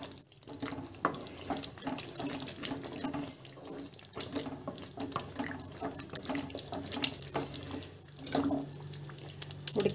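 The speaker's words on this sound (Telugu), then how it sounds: "ఉడికిన నీళ్ళతోటే వేసేద్దామండి. వేసి మిక్స్ చేద్దాం ఒకసారి." Boiled chickpeas tipped into a pan along with their cooking water for a masala curry, making a steady watery pour and splash with scattered drips and clinks throughout, close and moderately loud.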